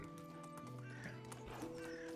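A donkey brays in the medieval village-life game Medieval Dynasty, a quiet, strained call under a steady layer of game music.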